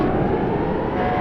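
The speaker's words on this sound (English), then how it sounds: "Why are there sirens? The plant plays them in the event of a major threat." Warning sirens at the Palo Verde nuclear plant sound during a simulated emergency, a steady loud wail that fills the whole stretch without a break and with no talk over it.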